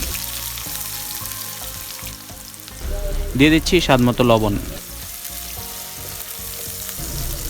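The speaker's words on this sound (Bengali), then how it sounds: "এবার আমি আরেকটা কড়াইয়ে তেল দিয়ে 1 কাপ পেঁয়াজ কুচি দিয়ে দিচ্ছি" A cup of chopped onions fries in oil in a kadai for biryani, giving a steady sizzle throughout while a voice speaks briefly in the middle.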